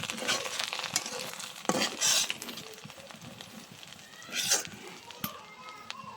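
Green chillies dropped into oil with onions frying in a pan, crackling and hissing at moderate volume with intermittent clacks and spatters.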